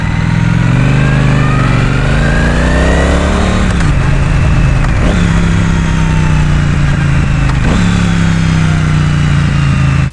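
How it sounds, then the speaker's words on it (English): A Triumph Street Twin motorcycle engine, roughly 50 horsepower, revs loud and close, pitch climbing then dropping sharply twice as the throttle is blipped, with a steady throbbing idle between revs and no talking. "as soon as you fire it up, it's just a really satisfying noise, and I couldn't stop revving it going under bridges"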